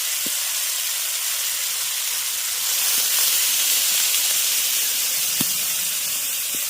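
Water hits a hot pan of fried tomato, ginger and slit green chillies, giving a steady, even steam hiss and sizzle that swells slightly partway through, with no talking.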